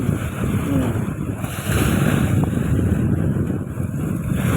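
Strong wind and waves at sea off southern Thailand as the rainy season sets in, a loud, steady roar of gusting wind buffeting the microphone over constant surging water, with no voices.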